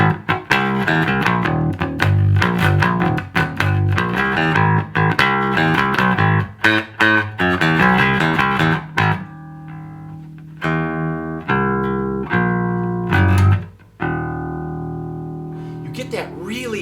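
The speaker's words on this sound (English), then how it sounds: "You can know a P bass as soon as somebody plugs it in." A P bass electric bass guitar, its single-sheet wood body giving a woody tone, is played plugged in with loud rhythmic notes and runs, followed by slower held notes and sparser plucks toward the end, with no voice heard.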